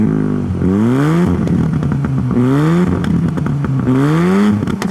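Mazda RX-7 FB rotary engine, otherwise stock, revving up and dropping back several times in a row, loud and close with a raspy, buzzy exhaust tone.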